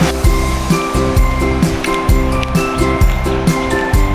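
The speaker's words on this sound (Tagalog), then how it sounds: "Yung sounds ng ilog. Ang sarap sa tenga." Clear, cold countryside river water in Australia rushes and hisses steadily up close, with a low, regular pulsing thrum running underneath the flow.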